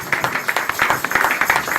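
A church congregation clapping at a New Year's Eve service, quick rhythmic claps in a steady beat, close and fairly loud, lasting under two seconds.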